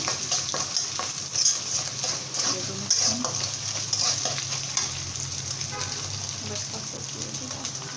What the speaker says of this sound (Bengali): চিকেনটাকে আমি হালকা করে ভেজে নিলাম।